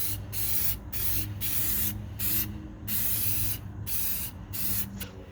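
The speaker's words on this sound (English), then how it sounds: "A generous and even application of the spray will protect the cement material" Clear sealer sprayed from a can onto a cement fountain riser in a series of steady hissing bursts, about seven or eight, separated by brief pauses, close and alone.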